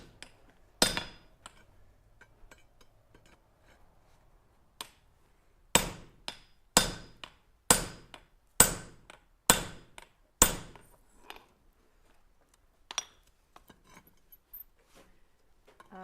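Hammer blows ring out on a miniature anvil in a workshop, a few scattered taps followed by a steady run of six sharp, evenly spaced metallic strikes, then a few lighter clinks.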